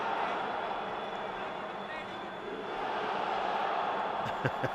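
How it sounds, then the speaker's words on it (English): Stadium crowd at a Philippines vs Singapore AFF Suzuki Cup 2020 football match, a steady broad roar of thousands of voices, swelling slightly midway, with a few sharp knocks near the end. "The crowd is clearly making its feelings known."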